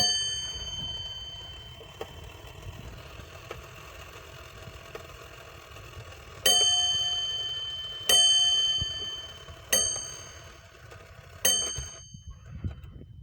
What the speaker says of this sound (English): This one strikes primarily just on a bell. Nothing else.